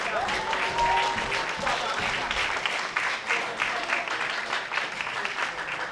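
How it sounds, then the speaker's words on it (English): A crowd at a prison literacy event applauds for Aunt Sookie, a steady wash of clapping with some voices and a brief whistle-like tone early on, then tapering slightly. "let's give a round of applause for Aunt Sookie"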